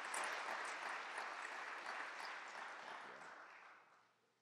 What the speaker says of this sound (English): They deserve your applause right here and now.